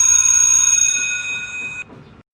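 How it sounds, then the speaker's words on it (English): A school bell rings for assembly, a single sustained bright metallic tone that holds steady for nearly two seconds, then stops abruptly. "The bell for the assembly rang."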